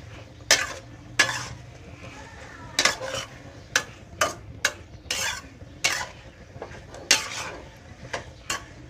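Instant noodles tossed with morning glory in a pan, a spatula scraping and clanking against the metal in irregular bursts over a faint low hum, with no talking.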